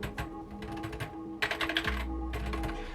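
Keys clatter on a 2005 Apple keyboard, one with a stuck key, in quick uneven bursts of close plastic clicks with short pauses between runs of typing, over a low steady hum.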